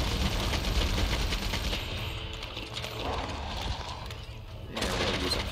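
Weapon shots fired at Teostra in Monster Hunter: World ring out in a fast, steady stream, blending into a dense, loud wall of battle noise that barely lets up, with a brief lull before another burst near the end.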